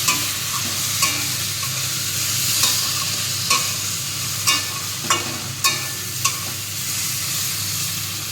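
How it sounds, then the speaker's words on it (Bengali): Spices are stirred into a soybean curry frying in oil, a constant loud sizzle punctuated by regular sharp scrapes of a spatula against the pan, close up with no talking. "সুন্দর করে মশলাটা এর সাথে মিশিয়ে নিতে হবে"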